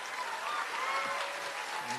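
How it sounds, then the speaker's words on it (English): A crowd claps in a dense, steady burst of applause that holds at an even level throughout, at an elementary school fourth grade promotion ceremony. "could you give those students a big round of applause?"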